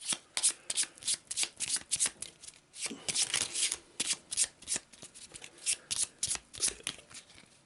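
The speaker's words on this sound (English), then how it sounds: "Let's give it a quick shuffle." Location card deck from the Arkham Horror board game being shuffled by hand, a rapid run of crisp riffling bursts repeating in a steady rhythm, close and clear with no talk.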